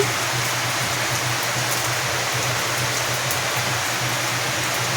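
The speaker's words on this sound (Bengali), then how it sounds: "বাইরে বৃষ্টি শুরু হয়ে গেছে।" Rain falls steadily outside, a constant close wash of even hissing patter with no breaks.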